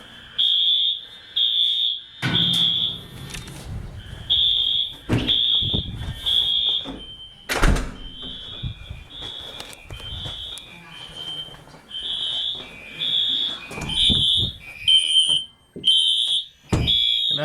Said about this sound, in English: You're gonna hear the alarm under the house.